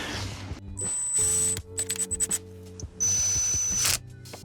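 A budget Temu cordless power drill drives screws into wood in a few short whirring bursts, close and loud, with clicks and handling noise between runs.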